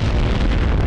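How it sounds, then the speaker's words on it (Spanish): A video game explosion plays out as a sustained, heavy roaring rumble that stays loud and dense for nearly a second, without any voices. "Los chicos rudos dan la espalda a las explosiones."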